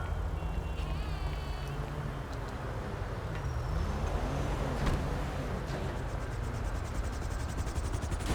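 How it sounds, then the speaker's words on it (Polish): A helicopter lifts off in GTA Online during a Diamond Casino & Resort mission, its continuous rotor and engine drone holding at moderate level throughout, mixed with faint traffic-like game ambience. "Wsiadamy i odlatujemy jeśli ten helikopter jeszcze odleci."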